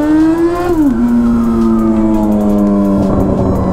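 A Yamaha XJ6 motorcycle engine revs loud and close, its pitch climbing, dipping sharply, then holding a steady high drone with a slight rise near the end, heard alone without talk.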